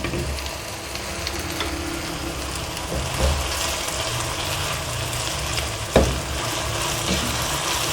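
An Afghani omelette of egg, potato and tomato fries in a pan with a steady, close sizzle, broken by a couple of small clatters and bumps.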